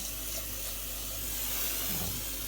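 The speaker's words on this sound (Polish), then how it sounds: "doleję zimnej wody, tak żeby przykryło nieco" Cold water pouring steadily over soaked dried mushrooms in a home kitchen, a continuous soft rushing splash with no break.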